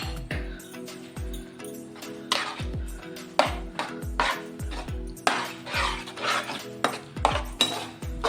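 Grated carrot halwa being stirred with milk in a pan, a spoon scraping and clanking against the metal in a steady repeated rhythm, close up with a faint wet sizzle underneath.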